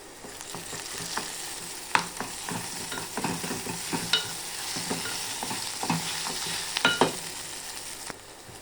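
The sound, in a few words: bay leaf, cumin, pepper, cinnamon, cloves frying in oil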